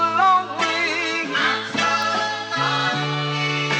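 A pitched-up melodic sample for a beat, bright and warbling with a steady low sustained tone underneath, playing alone at moderate level for a few seconds.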